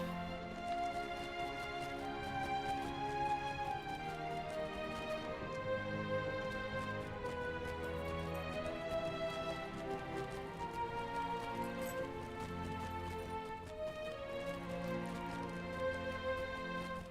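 Hooves of a red horn goat mount trot steadily in Lord of the Rings Online, a soft, quiet, repeating clip-clop under game music that runs throughout.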